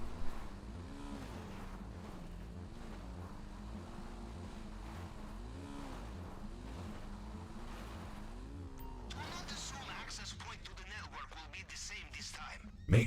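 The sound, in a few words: riding a motorbike in video game GTA 5 Online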